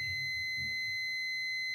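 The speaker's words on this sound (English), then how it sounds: "If I press this, you can hear the beep sound clearly." A multimeter sounds its continuity-test beep as the probes close the circuit, a steady high electronic tone held without a break over faint low background rumble.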